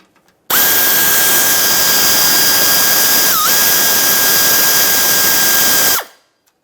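A power drill or driver whirs steadily for about five seconds while backing out 7mm-headed mounting bolts from the front bumper cover of a 2017-2024 GMC Acadia. The loud, close whine dips briefly midway, then cuts off.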